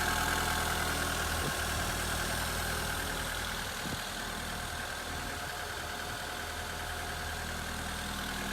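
A 1993 Peugeot 205 with a 1.1 litre petrol engine idles steadily and fairly quietly, a continuous low hum under broadband noise.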